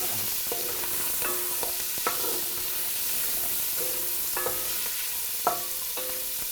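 Sausage browning in a pan after pancetta for a Tuscan soup: a soft, steady sizzle with repeated utensil scrapes and taps, close and moderately quiet, with no talking.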